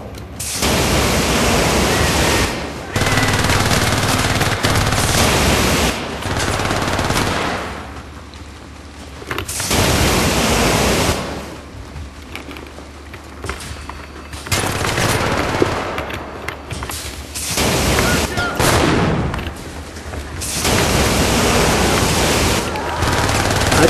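In the Syndicate video game, a gun unleashes long stretches of harsh, roaring automatic fire. The loud sustained bursts alternate with quieter gaps across the length of the sound.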